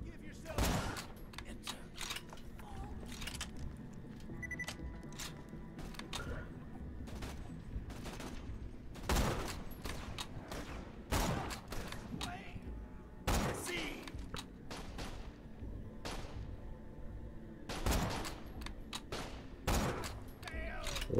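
Video game gunfire in Borderlands: The Pre-Sequel, with sharp shots and short bursts at irregular intervals over a steady background hum, while a voice talks at times.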